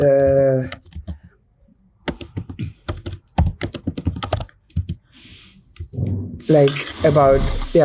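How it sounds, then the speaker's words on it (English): Keys tap on a computer keyboard in short irregular bursts between spoken exchanges, with people talking before and after the typing. "Can you type the name here? Yeah, I can."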